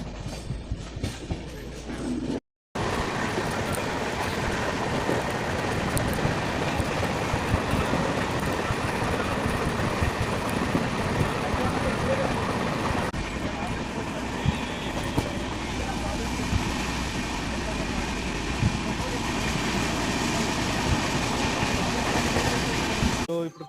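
Onboard the Sirpur Kaghaznagar Intercity Express 12757 on the Secunderabad route, a continuous loud roar of the running train with wheel clatter on the rails, broken by one brief gap early on.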